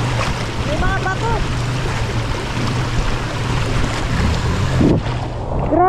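A motorboat engine runs steadily on open water among rocks, a constant low drone with wind and water noise throughout, a few voices calling out faintly over it.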